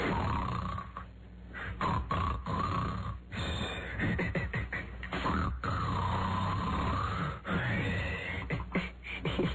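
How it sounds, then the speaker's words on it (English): A comedic sound effect of a man snoring through a humorous dream: loud, rhythmic nasal snores and snorts with grunting, wheezing breaths and warbling tones, heard alone. "man snoring during humorous dream"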